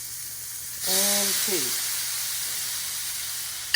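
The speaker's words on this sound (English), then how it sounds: "Hear that nice sizzle?" Steak dropping into a hot pan with butter, a sudden loud sizzle that bursts in and then settles into a steady frying hiss, with a brief spoken word over it.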